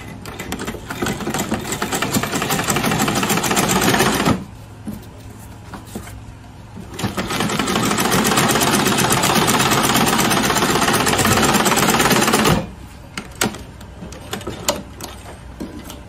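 A sewing machine stitching the brim of an Ankara fabric baseball cap: two long bursts of loud, rapid mechanical chatter separated by a quiet pause, nearby.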